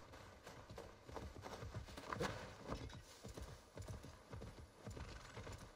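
Horse hooves pound in a quick, uneven galloping rhythm in Assassin's Creed Valhalla, moderately close and steady throughout, under soft game ambience.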